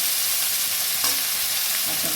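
Onions fry in a pan with steady broadband sizzle and occasional stirring scrapes, close and continuous for a couple of seconds, no voices.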